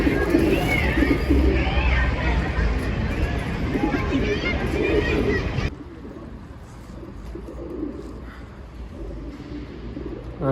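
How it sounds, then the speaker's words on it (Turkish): Several homing pigeons coo in their loft after returning from a flight, a dense overlapping chorus of low throaty coos, close and loud, with wing flutters and someone talking softly at the end. "güvercinlerin hepsi hemen hemen geldi"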